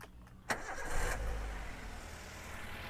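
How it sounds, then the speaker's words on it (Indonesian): A 2010 Toyota Avanza G with a standard petrol engine cranks briefly and catches, then settles into a steady low idle, close and fairly quiet. "Sekarang coba kita hidupkan bagian mesinnya."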